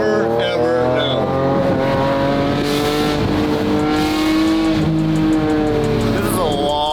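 A Ferrari 550 Maranello's V12 pulls and revs while driving, a loud, rich engine note rising and falling close by, with people talking over it.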